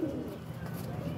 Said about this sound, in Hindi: ये भी कबूतरी है